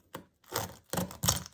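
A knife cuts through a crunchy, milk-soaked eggshell, giving three short crackling crunches in quick succession, close and fairly loud with no talking.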